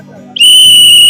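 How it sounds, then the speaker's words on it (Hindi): A whistle from a wildlife safety kit, after a brief low murmur, bursts into one loud, shrill, sustained blast that holds steady and close to the end. "इस सीटी से आवाज निकालेंगे ये"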